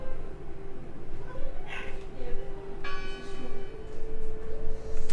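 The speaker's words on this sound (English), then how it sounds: "Listen! The bell!" A bell rings in the video game Draugen, with several clear metallic strikes near the middle and end, over a steady droning game ambience with no talk.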